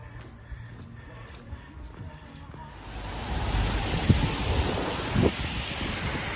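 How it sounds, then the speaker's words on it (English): Wind and steady rain on a walking route in town, starting quiet and then swelling into a loud, broad rushing wash with wind buffeting the microphone and occasional thumps, no voices. "it's windy and quite steady rain at the moment"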